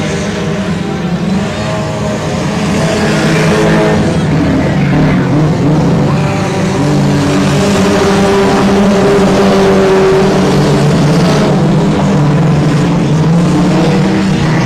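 Several race cars in lap traffic on the I-37 Speedway oval roar steadily and loud, engine tones layering and swelling as cars pass through the turns, with no talk over the continuous drone.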